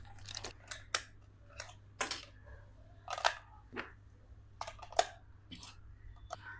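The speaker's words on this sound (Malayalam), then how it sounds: "നമുക്കിനി ഫസ്റ്റ് റിമോട്ടിൽ നമുക്ക് ബാറ്ററി ഇട്ട് വെക്കാം." Batteries being fitted into the handheld remote control of an HB Toys Apex4 Defender-style 4x4 RC crawler, giving a series of sharp plastic clicks and snaps at irregular intervals, close and fairly quiet, with no talking.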